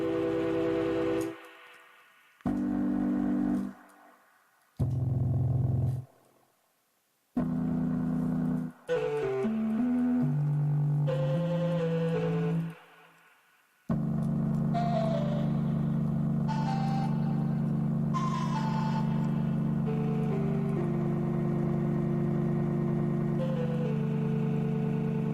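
Synth chords played on an eight-voice patch built in Bitwig's Grid: several short sustained chords separated by silences, then a long held chord with a shifting, drifting upper line, loud and alone.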